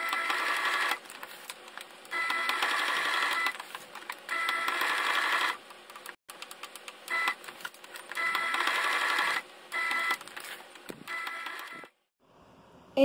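Domestic sewing machine stitching a fabric label onto a small drawstring organizer bag, running in several rapid mechanical bursts of a few seconds each with short pauses between them, moderately loud and close.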